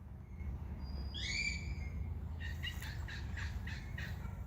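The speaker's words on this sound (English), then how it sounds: "there's birds" Birds chirp in a garden in two bursts: a short run of high calls, then a longer rhythmic series of clear chirps, over a steady low rumble of distant power tools.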